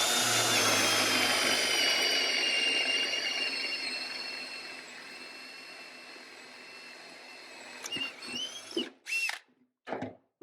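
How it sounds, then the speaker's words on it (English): A DeWalt cordless drill bores into 1-inch maple under heavy pressure, a loud sustained whining, straining motor drone that gradually eases, then several short revving bursts and stops as it finishes. "I don't know if you heard the drill kind of hollering a little bit."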